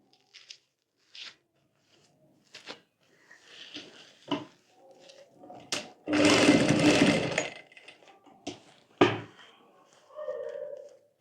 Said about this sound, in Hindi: यहाँ पर हम सिलाई कर लेंगे।